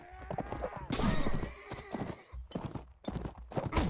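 Horses gallop in the medieval combat game Mount and Blade Warband, with irregular bursts of hoof clatter and loud impacts amid battle noise, fairly close, with no speech over them.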